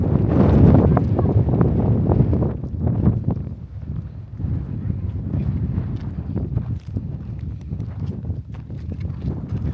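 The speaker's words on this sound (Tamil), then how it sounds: "ரொம்ப குளிர், காற்று பயங்கரமாக அடிக்குது." Strong, cold wind in Spiti Valley buffets the microphone in heavy, roaring gusts, loudest at the start and then continuing in uneven rushes.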